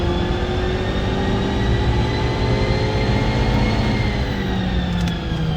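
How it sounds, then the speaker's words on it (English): A tuned 2022 Ford Maverick engine running hard on a dyno, a loud, sustained drone whose pitch climbs gradually as it revs higher, with no talk over it. "Revved a little higher that time."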